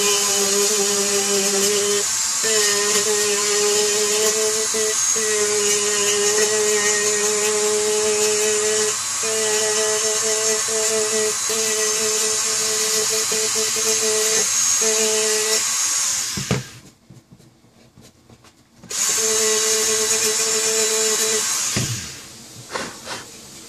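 A power tool sands plastic parts for an HK G3-style Tippmann A5 paintball marker build, with a steady high-pitched whine running loud and close for about sixteen seconds, stopping briefly, then starting again.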